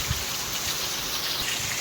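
Heavy rain falls in a steady, loud wash of noise, with scattered heavier drops thudding nearby.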